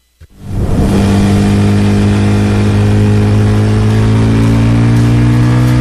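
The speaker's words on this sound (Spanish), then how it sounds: "reconoces ese sonido y sabes que se trata de una moto deportiva" A sport motorcycle engine starts up and revs hard, climbing into a loud, steady, sustained high-pitched whine with strong engine harmonics, heard close and alone.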